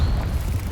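Confringo explosive spell cast in Hogwarts Legacy, a brief, low, muffled boom that rumbles for under a second and sits fairly quiet on its own.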